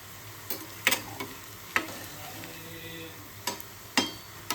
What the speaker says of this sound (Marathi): आता हे मीडियम गॅसवरतीच आपल्याला मस्त तळून घ्यायचे